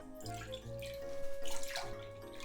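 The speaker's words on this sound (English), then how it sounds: "Then here I'm going to put in 2 cups of water." Two cups of water poured into a clay pot for miso udon, a soft, brief splashing and trickling with faint tonal ringing from the vessel, quiet and close.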